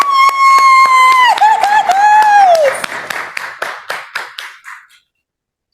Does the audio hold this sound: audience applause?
yes